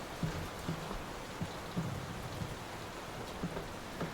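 Steady rain hissing down in the video game Layers of Fear (2023), with soft, scattered low thumps underneath, a constant wash of patter with no voices.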